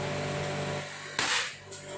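A single sharp crack from an air rifle firing a slug through a grooved barrel at a target, standing out against a steady background hum, with a faint second tap shortly after.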